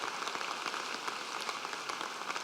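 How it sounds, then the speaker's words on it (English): A crowd applauds for a singer at a graduate commencement ceremony, a steady wash of many hands clapping at moderate volume and slightly distant, with no voices over it. "give Ariana another round of applause for that beautiful rendition this morning"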